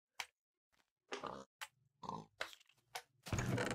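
Pigs in the video game Minecraft give several short, close grunts in a quick irregular series, separated by silent gaps, with a louder burst at the end.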